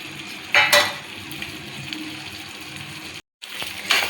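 Cauliflower pieces for gobi manchurian hit a hot pan and fry with a loud sizzle, punctuated by clattering stirs against the pan, a brief cut-out, then another burst of stirring.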